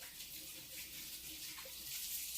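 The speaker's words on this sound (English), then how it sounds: "I'm going to wash my hands real quick." Tap water runs steadily into a sink as hands are washed in a kitchen while preparing smoked tofu, a soft, even hiss heard alone at low volume.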